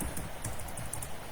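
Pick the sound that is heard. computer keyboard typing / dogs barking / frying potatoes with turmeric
computer keyboard typing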